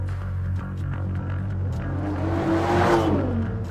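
An Aston Martin's 5.2-litre twin-turbocharged V12 engine, rated at 600 horsepower, revs with a smooth, rising roar that builds to a peak near the end over a deep, steady rumble.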